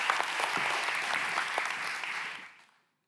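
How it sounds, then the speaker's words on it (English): Audience applause at a CEO pitch festival as a speaker from Akvo takes the stage, a steady dense clapping lasting under three seconds before fading quickly to silence. "Yes, applause."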